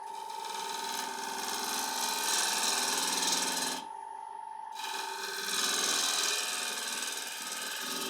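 Ash bowl spinning on a wood lathe as the underside is shaped, a continuous scraping whir of tool on wood with a steady motor hum, loud and close, briefly dropping out for about a second midway.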